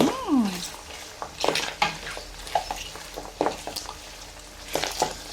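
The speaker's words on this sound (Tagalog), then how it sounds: "magigisa na tayo guys ng bawang sibuyas" Garlic and onion sautéing in oil in a pan while cooking dinuguan, with soft stirring scrapes and light clinks over a steady low sizzle, close and moderately quiet.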